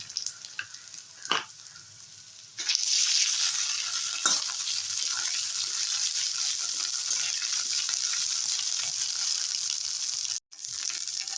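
Onion sizzles in a frying pan, and ginger paste goes in. A quieter crackle first, then a sudden loud burst of hissing that holds steady, with a brief drop near the end.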